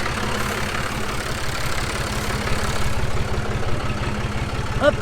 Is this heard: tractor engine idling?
yes